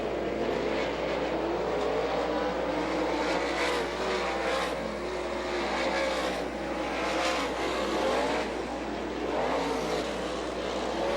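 Sprint race cars on the All Star Circuit of Champions dirt track in Butler, Michigan, 2002, roar steadily around the oval, engine pitch rising and falling as the pack circulates at a distance.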